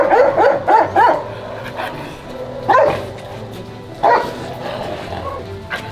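A K9 search and rescue police dog barks in quick bursts: a run of four sharp barks at the start, then two more spaced out, loud and close over a low background hum.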